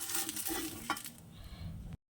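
Pitha cakes fry in oil with a soft, close sizzle and a few light stirring scrapes, fairly faint, before the sound cuts off abruptly.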